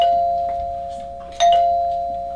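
Small electric bell driven by a copper wire coil and spring-returned metal striker, ringing with a steady sustained tone and a second brighter strike midway, close and clear with no talk.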